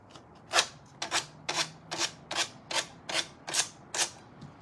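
Nine evenly spaced scraping strokes of sanding off excess material from a piece cut with slits along its V-shaped indentations, close and fairly loud, each rasp short and bright with brief pauses between.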